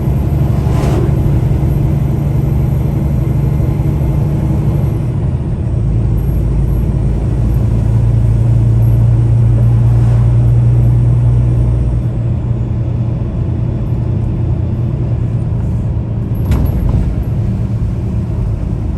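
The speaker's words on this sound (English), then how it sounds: "There you go. There's a truck." Loud, steady low engine rumble of a Peterbilt truck close by, swelling midway as it passes, with no talking.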